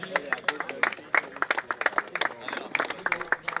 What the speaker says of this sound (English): So a big round of applause for everyone who was part of the tournament